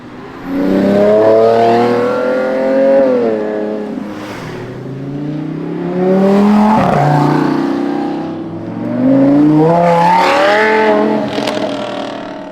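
Several Lamborghini V10 supercars, a Revuelto among them, rev their exhausts loudly in bursts that swell and fall across three long surges, each a deep, rising, harmonic roar close by.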